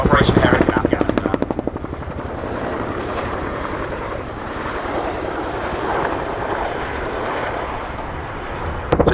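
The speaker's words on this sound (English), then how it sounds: "The display you see today really demonstrates how manoeuvrable this extremely large helicopter is." A large military helicopter flies a display at Duxford Air Festival, its rotor making a loud rhythmic chop that swells and fades as it manoeuvres nearby.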